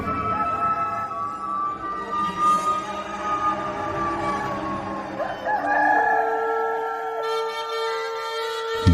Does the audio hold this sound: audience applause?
no